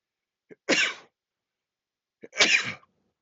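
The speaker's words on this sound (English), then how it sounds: "I usually have 3 sneezes" Two sharp sneezes, each preceded by a quick intake of breath, close and loud, separated by a pause of over a second in otherwise silent surroundings.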